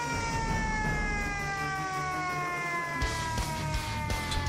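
An emergency alarm siren for a hydrogen sulfide gas leak at an industrial unit wails loudly in a steady falling tone, with mechanical clatter and background noise underneath.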